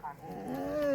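A single goat on a farm gives a short, rising, nasal bleat, fairly close and alone against a quiet background.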